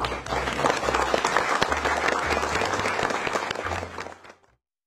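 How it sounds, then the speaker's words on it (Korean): Sustained applause from a crowd at South Korea's National Assembly celebrating Han Kang's Nobel Prize in Literature, dense and even for several seconds before cutting off abruptly, with a low steady hum beneath. "우리 한강 음, 작가의 노벨 문학상 수상을 어, 축하드리고 자축하는 의미에서 박수 한번 보내드리고 하는 게 어떨까요?"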